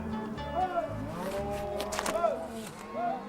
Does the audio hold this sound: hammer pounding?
no